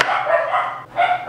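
A dog barks in two quick bursts, loud and close, with a short gap between them and nothing else audible.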